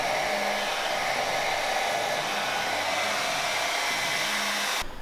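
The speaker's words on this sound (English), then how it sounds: "we're just going to grab a dryer and just a small brush" A hair dryer blows continuously on a beard in a barbershop while a small brush shapes it, a steady loud airy whoosh with a constant motor hum that cuts off abruptly near the end.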